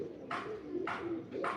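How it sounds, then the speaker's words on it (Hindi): Teddy pigeon, a breed developed from black-faced pigeons, cooing in three close, repeated phrases, each a soft throaty burst, loud and alone without any talking. "लो बेटा, ये भी टैडी कबूतर है"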